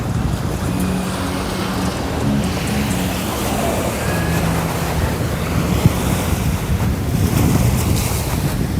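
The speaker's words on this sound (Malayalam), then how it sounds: "വലിയ തിരകളില്ലാതെ ശാന്തമായിട്ടുള്ളൊരു കടൽ." Calm sea at night along a wide beach, a constant low wash of gentle waves mixed with gusty wind rumbling across the microphone, steady and fairly loud throughout.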